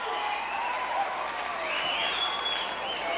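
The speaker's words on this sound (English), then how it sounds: "This capacity crowd coming alive as they can do behind the likes of the Junkyard Dog." Capacity wrestling crowd at a 1985 WWF event applauding and roaring in a dense, steady wash of clapping and cheers, fairly loud and continuous throughout.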